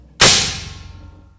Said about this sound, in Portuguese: efetuei o disparo